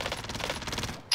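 A rapid stream of automatic gunfire in a first-person shooter game, fairly quiet and steady, about a second of fast repeated shots before a sharp final crack.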